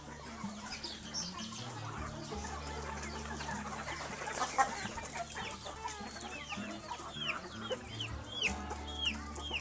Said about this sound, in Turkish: 3 tane civciv var ya